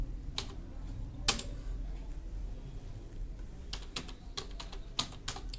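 Fingers type a name in MS Word on a computer keyboard, producing an irregular run of close, crisp key clicks with short pauses between bursts, no speech.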